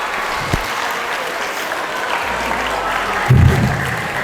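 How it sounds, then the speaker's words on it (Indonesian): Children at an Islamic boarding school storytelling session clap together in a steady, lively patter, with a brief bump of closer noise near the end. "cukup tepuk tangan teman-teman buat Odi"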